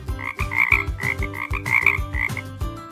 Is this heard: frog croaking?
yes